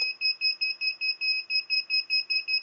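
Rapid, regular electronic buzzer beeps from an ESP8266 water level monitor, about four shrill tones per second repeating steadily, close and clear with nothing else heard.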